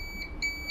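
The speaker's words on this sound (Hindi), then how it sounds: "इन कैपेसिटर पे दोनों साइड बीप आ रही है।" Short high electronic beeps from a multimeter continuity test on capacitors of a Vivo Y20 phone board, three quick tones in a row, quiet and clean with no talking.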